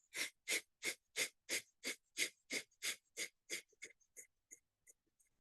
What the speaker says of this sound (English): Big breath in. Kapalabhati breath.